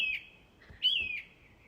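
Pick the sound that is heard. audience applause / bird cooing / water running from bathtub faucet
bird cooing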